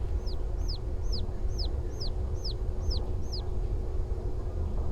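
A bird in the video game Obenseuer gives a steady run of about eight short, bright, downward-sweeping clucking chirps, evenly spaced, over a low ambient hum with no talking.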